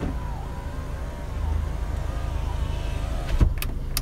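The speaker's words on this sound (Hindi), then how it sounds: "विंडोज़ को आप इन बटन्स के थ्रू कंट्रोल कर सकते हैं" Power windows on a Mini Cooper run from the door buttons, giving a low electric motor hum inside the car that ends with a short thump near the end.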